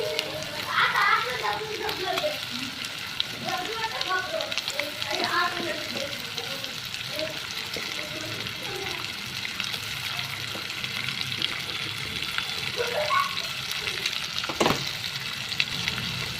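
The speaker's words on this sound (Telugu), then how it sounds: "ఆనియన్స్ అయితే ఫ్రై అయ్యాయి ఇప్పుడైతే రొయ్యలు అయితే" Prawns frying in a pan with onions and ginger-garlic paste, a steady close sizzle with occasional stirring clatter, while someone talks faintly in the background.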